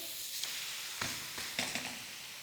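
Thalipeeth flatbread laid on a hot, oiled iron griddle gives a steady close sizzle and hiss, with a few sharper crackling bursts as it settles on the pan.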